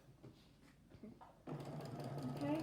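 A sewing machine stitching a child's fabric tote bag starts up after a short quiet stretch with soft voices, then runs in a steady close whir as the fabric turns a corner.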